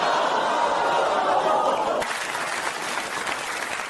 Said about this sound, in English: You clapped too early.